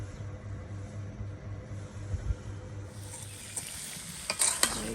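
Food being stirred in a pan during home cooking, with a low, steady sizzle and a few scraping spoon strokes that grow brighter and louder toward the end, with no talking.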